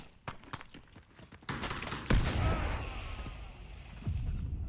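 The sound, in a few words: grenade explosion in the video game Delta Force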